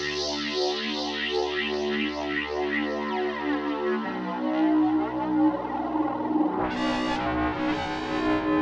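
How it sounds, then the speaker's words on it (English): A guitar played through the freeware Boogex amp plugin with delay added rings out in sustained distorted, echoing tones, shifting pitch and warbling as a shift control is swept, ending in a rising, smeared effect sweep; no voice. "You could then go in and take this even further by like throwing on the delay, and we'll mess around with the shift control."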